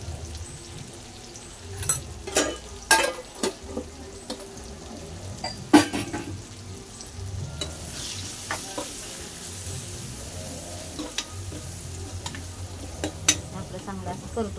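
Tomato masala with turmeric, coriander powder and chili powder sautés in a pan for a pea and potato curry, a steady soft sizzle broken by sharp scraping clinks of a spoon stirring against the pan.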